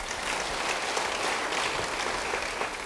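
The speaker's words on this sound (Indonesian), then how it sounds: "Yang mau beri tepuk tangan bagi dia." A church congregation applauding: steady, dense clapping from many hands, continuous and fairly loud throughout, with no speech over it.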